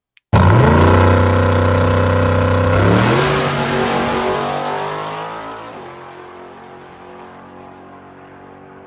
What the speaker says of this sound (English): So we just decided to do one downpipe and a bullhorn on it, but it's still super loud.